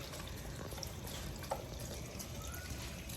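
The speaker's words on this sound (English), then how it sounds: "So yeah, pouring the vegetable broth in here." Vegetable broth pours steadily into a cooking pot in a home kitchen, a faint continuous liquid trickle and splash heard close by with no voices over it.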